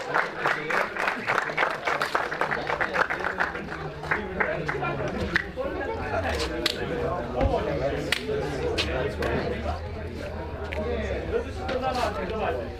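Audience applause for group winners at a 2025 kart racing podium ceremony: sustained crowd clapping with a dense patter throughout, mixed with crowd chatter and a voice over a loudspeaker, moderately loud and continuous.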